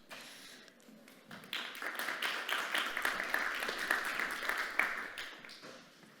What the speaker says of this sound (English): Okay, big applause please for Florian Tyler, co-founder and CEO of Ucaneo